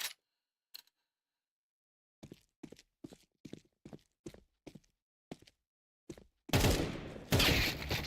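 Gunfire in a competitive video game match: a string of sharp, separate shots in an irregular rhythm, followed by a dense, loud burst of rapid fire near the end, with no voices.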